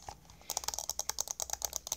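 Rapid mouse clicking during Minecraft Bedrock Edition play, a quick irregular burst of sharp, close plastic clicks that starts after a brief pause, fairly quiet and alone.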